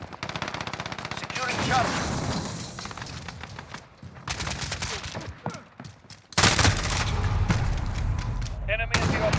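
Rapid bursts of gunfire from a Call of Duty shooter game crackle almost continuously at close range, mixed with in-game voice callouts and the player's talk.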